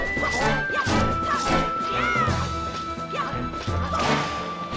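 Link's sword in The Wind Waker slashes through a quick spin attack on a Dark Nut, giving a run of sharp whooshing swings and clanging metallic hits over steady game music tones.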